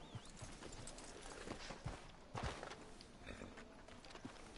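Horse hooves clip-clopping in Red Dead Redemption 2, a steady walking rhythm of soft thuds near the listener over a faint ambient bed, with no talk.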